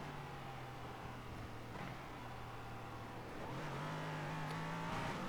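A race car lapping Portland International Raceway, steady engine drone from inside the car that briefly eases, then rises as the throttle opens, moderately loud with no talking.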